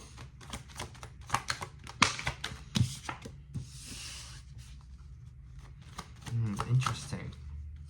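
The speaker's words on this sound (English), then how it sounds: "I'm gonna pull some cards for you." Tarot cards shuffled by hand in repeated quick riffling bursts, close and fairly quiet, with a soft voice speaking intermittently over and between the shuffles.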